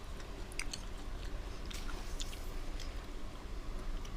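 Someone eating a Thai meal with spicy salad chews close to the mic, making soft wet squishing and crunchy bites in a steady rhythm, with no talking.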